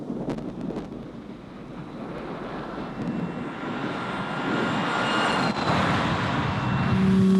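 An aircraft engine in Africa cranks up and builds to a loud, steady roar, with wind buffeting the microphone throughout and the drone growing louder toward the end.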